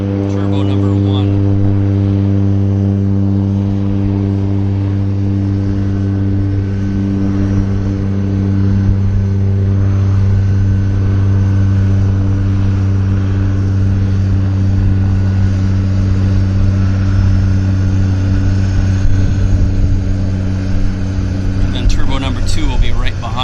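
A turbine floatplane engine at Vancouver Harbour floatbase drones steadily and loudly for the whole stretch, with strong tonal propeller harmonics holding a constant pitch.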